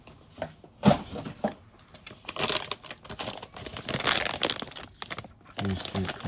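Plastic wrapping being crinkled and pulled open around a Neve R88 LBC compressor in a studio, close and crackly in irregular bursts, with speech running alongside.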